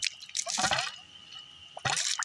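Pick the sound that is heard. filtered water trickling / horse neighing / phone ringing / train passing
filtered water trickling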